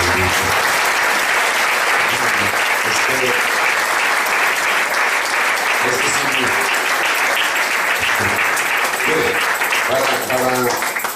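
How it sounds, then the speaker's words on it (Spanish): A church congregation applauds loudly and continuously, dense clapping filling the whole stretch with scattered cheers and voices mixed in under the noise. "denle un aplauso al Rey"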